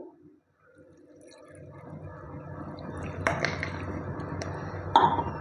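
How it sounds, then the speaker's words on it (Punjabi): A glass of water is poured into a pan of roasted potatoes and spices for semolina potato tikki. It starts as a faint trickle after a brief pause, then builds into louder splashing with a few sharp clinks near the end. "ਹੁਣ ਆਪਾਂ ਪਾ ਦਾਂਗੇ 1 ਗਲਾਸ ਪਾਣੀ"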